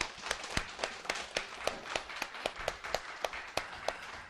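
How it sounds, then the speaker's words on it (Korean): A modest group at a gathering claps in a loose, steady rhythm, with distinct sharp hand claps standing out every fraction of a second over a softer patter of hands. "뜨거운 박수 한번 부탁드립니다."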